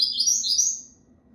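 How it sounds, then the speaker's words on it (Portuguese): Young six-month-old coleiro pardo songbird singing a quick, bright run of high chirping notes, close and clear over a quiet low hum. "Esse aqui é a mesma coisa, o passarinho jeitoso, onde eu coloco, penduro, canta."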